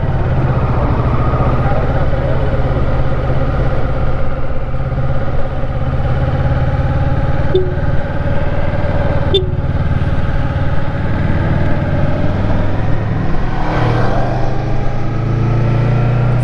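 Honda XRE300 motorcycle engine running steadily at close range, a continuous low mid-pitched drone with slight clatter and a few faint clicks, loud and unbroken for the whole stretch.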